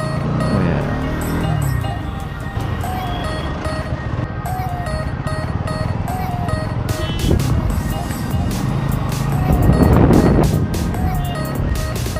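Steady traffic on a busy road, a continuous wash of engine and wind noise with passing vehicles, heard close while a person talks over it.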